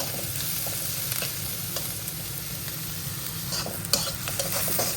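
Spice paste frying in a pan and being stirred, a steady close sizzle with scraping strokes from the spoon recurring throughout, no voices.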